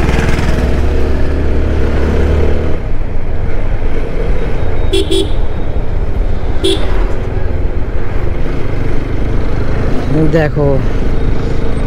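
A motorcycle climbing slowly uphill on a narrow mountain road from Siliguri toward Mirik, its engine a steady low drone with occasional horn toots over passing traffic, while someone talks throughout.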